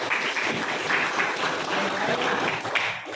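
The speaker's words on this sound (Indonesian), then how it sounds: "Oke, tepuk tangan dulu untuk Najah." A classroom group claps for a student, a moderately loud, even patter of many hands that holds steady for about three seconds, then cuts off.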